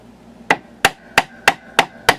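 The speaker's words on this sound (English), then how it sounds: "get my mallet, rawhide mallet out" A rawhide mallet taps down the ends of a metal jewelry ring. Six sharp, evenly paced strikes land about a third of a second apart, close up and clear, with no voices.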